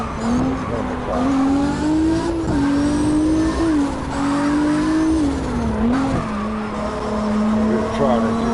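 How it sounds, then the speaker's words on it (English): Drifting race car in the CarX video game: a loud, steady engine drone holds with shifting pitch as tires squeal through slides, continuous and close throughout. "I'm really trying at the beginning to stop the drift."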